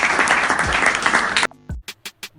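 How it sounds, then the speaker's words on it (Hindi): A burst of dense group applause plays for about a second and a half during a Hindi class lesson, then cuts off abruptly, followed by a few short, separate sounds. "आप सभी तालियां बजाइए।"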